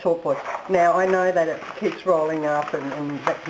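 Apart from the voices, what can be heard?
No distinct noise like a dog, phone or traffic.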